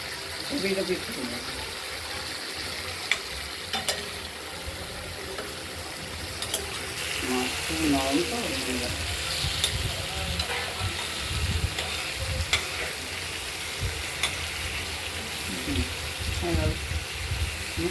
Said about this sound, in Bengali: ভাজা ছাড়াই দেবো কাঁচা মাছ নুন হলুদ মাখিয়ে এই কষানো মশলায় দিয়ে দেবো